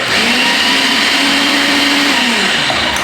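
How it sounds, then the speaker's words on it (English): A blender whirs steadily on a veggie burger mix of lemon rind, fresh parsley and a pinch of pepper, a loud, continuous motor drone that holds from start to finish and winds down at the very end. "So we're going to blend that up again."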